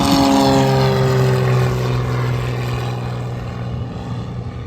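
A small propeller airplane takes off with a loud buzzing engine drone whose pitch slides downward as it pulls away, gradually fading over several seconds with no talk.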